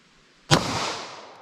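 A single sharp gunshot from a .40 S&W pistol with a 4-inch barrel firing a Winchester USA white box round into MDF and fabric outdoors, a crisp crack followed by a decaying echo tail.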